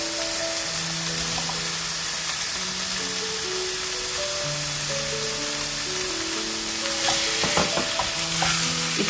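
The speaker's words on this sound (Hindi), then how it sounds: "इसके बाद हम इसमें अब अपना मीट ऐड कर देंगे और मीट को हम हल्का सा फ्राई करेंगे।" Meat frying in ginger garlic paste for biryani sizzles steadily in a pan, a continuous close crackle with occasional stirring clatter, no talking.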